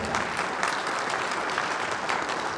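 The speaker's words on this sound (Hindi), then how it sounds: "प्यार भरी मुस्कुराहट और जोरदार तालियों से बारंबार स्वागत करें।" Audience at a political event applauding to welcome a speaker, a dense, even wash of clapping from many hands that carries steadily throughout.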